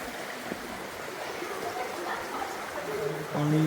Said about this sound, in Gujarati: પાણી આવે છે, અવાજ કેવો આવે છે આનો